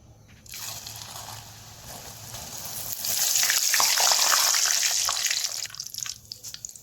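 Poha (flattened rice) deep-frying in hot oil for chivda, a steady crackling sizzle that swells louder midway then thins into scattered pops, with no talking.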